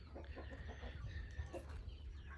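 Oriental-breed chickens on a farm clucking in short bursts at close range, with steady low rumble underneath and a busy bird-filled backdrop.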